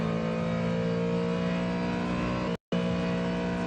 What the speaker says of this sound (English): As they re-accelerate down the Mulsanne straight though, the Ford is firmly in the draft of the turbocharged Aston Martin.